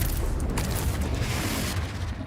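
A Confringo spell explosion in Hogwarts Legacy comes across as a rumbling boom with dense, sustained blast noise, heavy and low throughout, with no voice on top.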